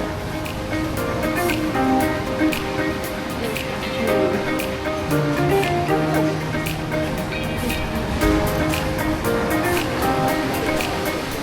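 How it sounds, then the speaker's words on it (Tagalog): Surf washes steadily onto a Boracay beach at low tide, a continuous close rush of breaking water with no one speaking. "So, look at the beach."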